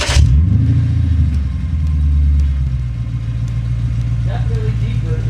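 A Lexus IS F with its muffler deleted fires up for the first time, a loud, deep exhaust rumble that settles into a steady, throaty idle with a slight swell partway through, close to the microphone.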